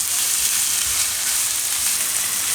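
Onion, garlic, ginger and chillies frying with salt in a pan, a steady close hiss and crackle of sizzling oil that holds even and loud without pause.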